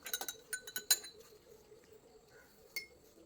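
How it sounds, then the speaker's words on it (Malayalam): Spoon stirring sugar into water in a glass, a quick run of bright clinks against the glass at the start, then quieter scattered taps and one last clink, close and fairly soft. "പഞ്ചസാര നമ്മൾ നന്നായിട്ട് ഇളക്കി"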